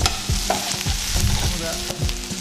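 Onions sautéing in butter in a pan for hamburgers, a steady close sizzle with repeated scraping stirs of a utensil against the pan.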